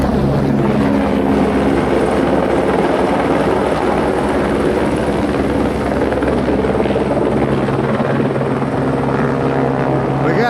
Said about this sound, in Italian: Intanto sta girando il soccorso alpino in elicottero, non so se lo sentite